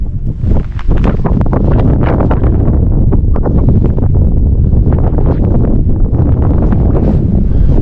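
Strong wind buffets a mountainside at night near Coumshingaun lake, a loud, continuous roar with gusty rumbling and heavy microphone buffeting that runs unbroken throughout, with no voices.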